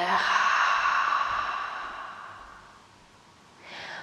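A long, deep breath out during a gentle yoga flow, close and audible, fading slowly over a few seconds before a short new breath begins.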